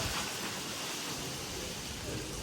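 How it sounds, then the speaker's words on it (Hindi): A windstorm brings rain in a steady, dense roar of wind and falling water that fills the whole scene at a constant loud level. "आंधी शुरू हो गई है"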